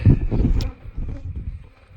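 Honey bees buzz on a hive frame during a colony inspection, a dense low hum that stays close and steady for the whole moment, loudest at the start and easing off slightly toward the end.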